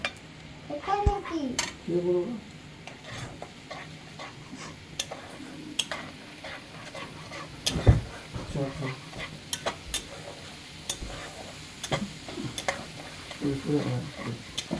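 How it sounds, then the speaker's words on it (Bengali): Ground spices, including Kashmiri and red chilli powder, fry in a pan as a spatula scrapes and clinks against the metal in repeated strokes over a low sizzle, with a few brief voice sounds in between. "এই দেখো মশলাটাকে ভালো করে ভেজে নিচ্ছি"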